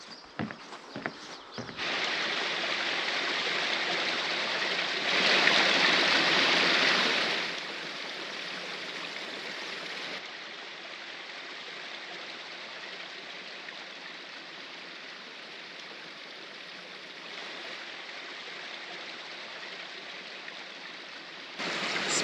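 Water gushing from pools beside a lake in the Altai mountains, a steady broadband rush that swells louder for a couple of seconds early on before settling back to an even flow.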